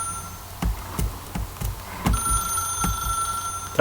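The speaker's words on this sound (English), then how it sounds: "But a ringing phone must always be answered." A telephone plugged straight into the wall rings inside The Stanley Parable, a steady electronic tone with repeated short bursts and soft clicks over a quiet room.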